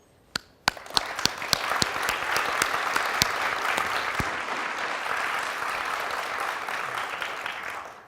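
Applause at a school awards ceremony opens with a few loud individual claps, then swells into sustained, dense clapping from a large audience before tapering off near the end.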